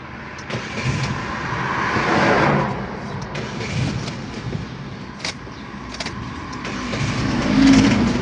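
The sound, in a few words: car engine starting and running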